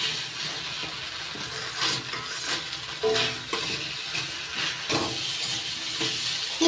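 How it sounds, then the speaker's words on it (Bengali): Spice paste and potatoes frying in a pan while being stirred, a steady hiss and sizzle with soft scraping, close and moderately loud throughout. "নাড়াচাড়া করে মশলাটা ভালো করে কষে নিচ্ছি আলুর সঙ্গে"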